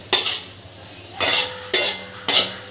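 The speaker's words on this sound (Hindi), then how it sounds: "प्याज डालने के बाद थोड़ा चला लेंगे" Four scraping strokes of a spoon stirring onions and liver in a pan for a desi-style liver kalage, each stroke a short bright scrape with quiet gaps between.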